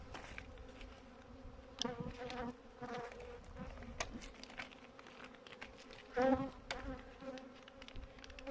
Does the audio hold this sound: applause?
no